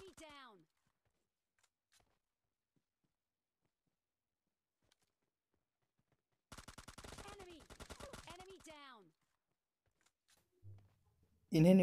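Bursts of rapid automatic gunfire in PUBG Mobile Lite, a sustained volley in the middle with a short shot at the start and a loud hit at the end, separated by near silence.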